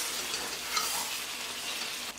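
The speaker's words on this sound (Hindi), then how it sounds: "अच्छी तरह से भूनेंगे" Ground spices with garam masala, nutmeg and mace powder sizzle and fry steadily in a pan for chicken biryani, a close continuous hiss with light stirring and no talk.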